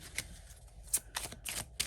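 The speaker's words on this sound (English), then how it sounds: "let's go ahead and shuffle some oracle cards" A deck of oracle cards is shuffled by hand, with a run of crisp riffling flutters and sharp slaps close up, arriving in uneven bursts.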